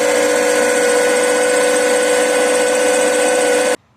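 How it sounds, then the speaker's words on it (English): A bench drill runs steadily as it bores holes through metal tubing, a loud, even motor whine with a constant tone that cuts off abruptly near the end. "I'm just drilling two holes with my bench"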